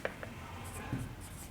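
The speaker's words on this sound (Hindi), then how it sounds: "यहाँ पे लिख देते हैं" A pen writes on paper while a math problem is worked by hand, giving soft scratchy strokes in short bursts against a steady room hum, with a little speech faintly present.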